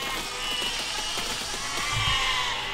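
Sheep in the video game Besiege bleat in short wavering calls over a steady game background, with a low thump near the end.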